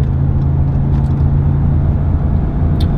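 A 2019 Ram 1500 half-ton pickup towing a big trailer on the highway gives a steady, loud, low engine and road drone from inside the cab, constant for the whole stretch.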